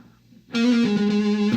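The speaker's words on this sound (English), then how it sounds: "the fuzz comes right in" A fuzz-distorted electric guitar cuts in abruptly after near silence, holding loud, saturated sustained notes with an echo effect, from a guitar lesson.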